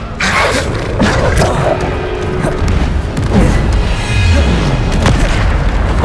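Bombarda spell explosions in the game Hogwarts Legacy: repeated heavy booms and crashing thuds roll through a busy, noisy fight, loud and close with constant rumbling debris between blasts.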